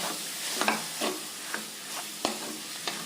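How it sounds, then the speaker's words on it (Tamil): A spatula stirs and sautés potato bonda masala with chopped coriander in a pan. Rhythmic scraping strokes land about every half second over a soft sizzle, close and quiet, with no voices. "லேசா ஒரு வதக்குனா போதுங்க"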